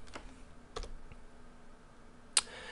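A few sparse keystrokes on a computer keyboard while entering a command in Stata, quiet isolated clicks with one sharper tap near the end against a faint background hum.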